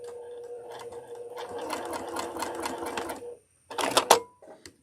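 A sewing machine runs steadily while stitching fabric pieces for a Dresden sunflower quilt block, close and loud, then stops briefly before a short burst of stitching and a few clicks.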